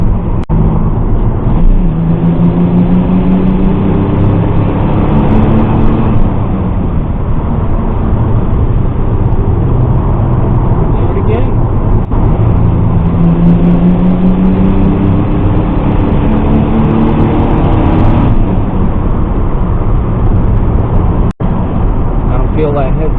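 A Pontiac Fiero GT fitted with a Jet stage 2 performance chip accelerates while driving. The engine note climbs in two rising sweeps from inside the cabin, with a steady drone between them and someone talking over it.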